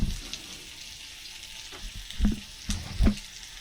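Pre-boiled turkey gizzards sautéing in a pan for adobo, with a soft sizzle under several heavier clunks and scrapes of stirring that come in short bursts near the end.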